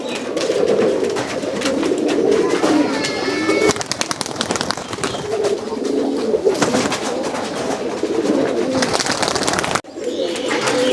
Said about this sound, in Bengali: এগুলো হচ্ছে আবলুক সুইটার কবুতর